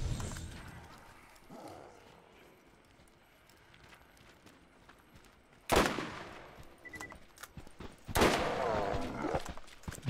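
Gunfire in the Borderlands video game, with two loud bursts of rapid shots standing out over a quiet, murky game background.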